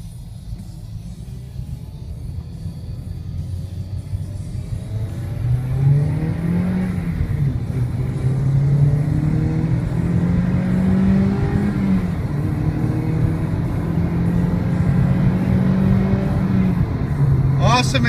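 A 2002 Toyota Celica GT idles, then pulls out into traffic, its engine note climbing, shifting and climbing again as it accelerates, heard from inside the car with someone talking over it.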